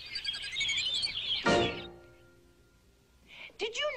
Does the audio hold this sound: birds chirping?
yes